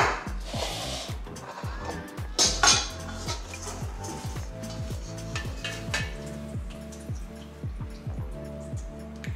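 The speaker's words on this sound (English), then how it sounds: "Okay, so the meat is done, but I need to drain it first." Cooked meat for a French bulldog's meal prep being drained from a pot: clinks of metal cookware and dripping, trickling liquid, close and moderately loud, with a steady rhythmic background sound underneath throughout.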